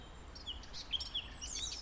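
Chaffinch and sparrow calls outdoors on a cold spring walk: several short, thin chirps, fairly faint and spaced apart over a quiet background.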